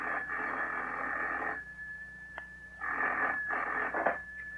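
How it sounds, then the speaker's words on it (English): A telephone rings in an office in an old-time radio drama: two long, loud trilling rings separated by a short pause, then the start of a third. "2 hours later, we're still sitting in Ferguson's office when the phone jangles."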